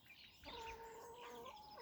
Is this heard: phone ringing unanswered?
no